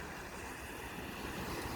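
Lake waves washing onto the beach at Chequamegon Bay, a continuous broadband surf wash with wind noise, steady and fairly close, with no talking.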